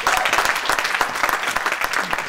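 A church congregation breaks into steady, dense applause during a sermon, many hands clapping together close by with no pauses and no voices on top.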